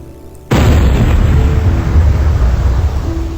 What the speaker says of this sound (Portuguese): vai me fornecer o som da bala de canhão disparada